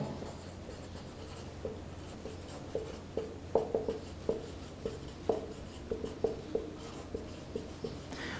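A pen scratches across paper in short, irregular strokes while equations are written out in matrix form, quiet and close, with a faint steady hum behind and no speech.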